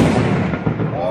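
A firecracker ball bomb goes off as a single loud, close blast that rolls into a booming, crackling decay lasting about a second.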